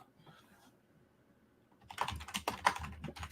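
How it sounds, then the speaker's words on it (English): Someone types quickly on a computer keyboard, a close run of crisp clicking keystrokes that starts after a quiet stretch with faint background noise. "So while he's typing the title"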